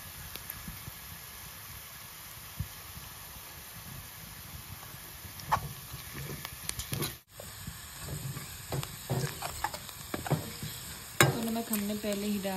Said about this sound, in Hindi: प्याज हमारा ब्राउन हो चुका है, अब हम डालेंगे इसमें मिर्च